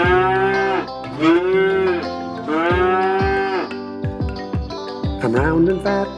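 A singing voice imitates a cow with long, drawn-out moos over a musical backing with a steady beat, followed by a few shorter moo-like notes near the end.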